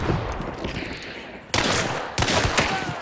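Gunfire in the game Hunt: Showdown: sharp, loud close shots with rolling echo, one burst followed by two more sudden reports, over a low rumble.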